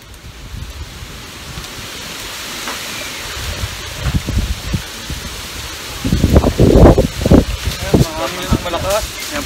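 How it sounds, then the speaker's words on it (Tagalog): Strong outdoor wind buffets a phone microphone at an outdoor Filipino boodle fight meal, rumbling gusts that grow louder toward the end, with people talking over it. "Yan po, malakas ang hangin."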